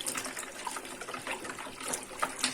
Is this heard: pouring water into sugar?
yes